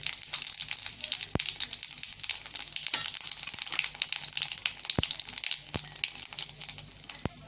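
Mustard seeds and cumin sizzle and crackle in hot oil in a pan on a low flame, a steady close fry with occasional sharp pops through the whole stretch.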